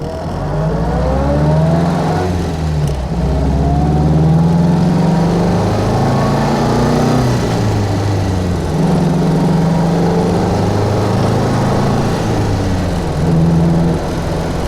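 A 1951 MG TD's small four-cylinder engine drones steadily while driving, loud and close, its pitch rising and falling through gear changes and acceleration over nearly fifteen seconds, with no talking.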